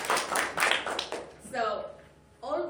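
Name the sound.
meeting attendees clapping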